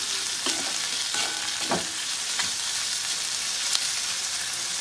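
Mushrooms and onion with salt frying over low heat in a pan, a steady close hiss with scattered stirring scrapes and a few brief clinks, no voices.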